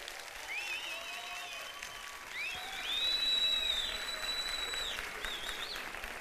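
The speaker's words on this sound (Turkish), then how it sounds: "Evet, kocaman alkış." Studio audience applause on a Kanal D Turkish TV show, Beyaz Show: steady clapping from a crowd, swelling midway, with bright whistle-like tones sliding above it.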